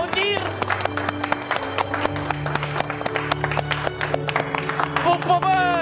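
Wedding guests applaud after the vows, sharp dense clapping from a nearby crowd with whistles and cheering voices mixed in, sustained the whole time.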